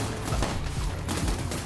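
Big explosions and blasts in the Cult of the Lamb video game, a dense rumbling barrage of booms that stays loud for the whole stretch with no talking.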